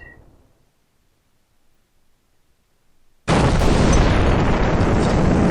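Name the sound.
glide bombs exploding in the video game C:MANO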